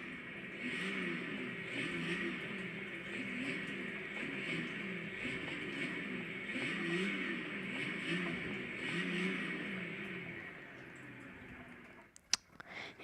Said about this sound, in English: Now I'm going to give you guys a little rev.